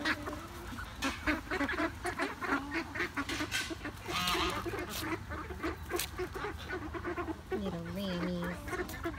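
A flock of ducks and ducklings quacks and honks noisily up close, overlapping calls in a busy chatter that continues throughout.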